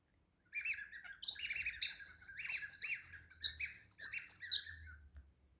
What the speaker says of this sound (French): Nous écoutions les oiseaux chanter.